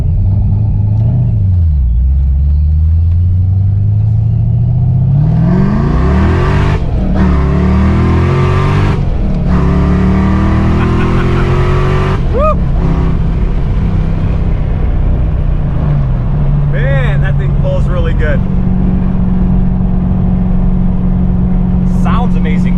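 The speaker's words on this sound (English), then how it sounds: "let's see what this Novi Supercharged Foxbody can do" A Novi-supercharged Fox-body Mustang with 3.73 rear gears accelerates hard through several gears, its engine climbing in pitch with each pull and a rising supercharger whine, loud and close with brief shift breaks, while people talk over it.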